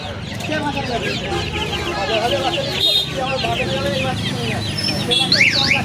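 Many chickens cluck and squawk close by in a busy, continuous chorus at a hen market in Uluberia, with people talking over the birds amid bustling background noise.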